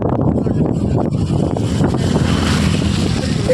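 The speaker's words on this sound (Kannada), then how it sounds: "ಚಳಿ ಬರ್ತಾ ಇದೆ, ಗಾಳಿ ಜಗ್ಗಿ ಬರ್ತಾ ಇದೆ" Strong wind roars steadily and loudly across the microphone outdoors during rain, a dense, continuous low rumble with no breaks.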